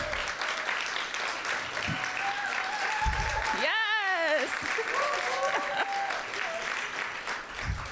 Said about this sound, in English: Let's do a loud, roaring clap.